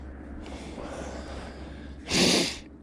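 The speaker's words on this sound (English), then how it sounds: "Excuse my sniffles." A quiet stretch of breathy background ends with one short, forceful nasal sniff, close and fairly loud.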